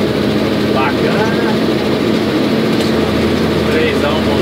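Mercedes-Benz 1519 truck engine revving up from idle, a loud steady low rumble with a constant hum, continuous through the whole stretch; someone talks over it.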